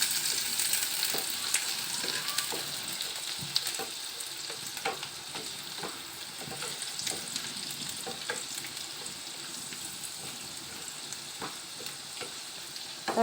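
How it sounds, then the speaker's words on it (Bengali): Chopped onions fry in a pan alongside whole spices (cinnamon, cloves, cardamom) for a masala bhindi dish, giving a steady soft sizzle with scattered stirring scrapes and clicks throughout, fairly quiet and without talk. "কুচানো পেঁয়াজটাও ছেড়ে দিলাম।"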